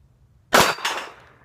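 A SIG Sauer P238 pistol fires outdoors: two sharp reports in quick succession, the first louder, each trailing off in a brief ringing decay.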